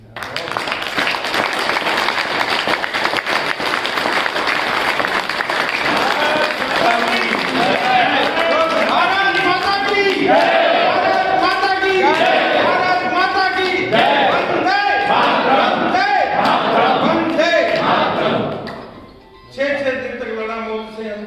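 Audience at a Hindi patriotic kavi sammelan poetry gathering applauds with sustained, loud, dense clapping that runs for nearly twenty seconds, a voice speaking over it, then briefly dips and resumes.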